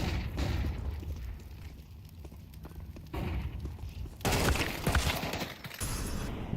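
An HE grenade blast and gunfire ring out in a competitive Counter-Strike match, with dense rattling shots and a heavy burst of noise midway, loud and crowded throughout, with faint commentary underneath.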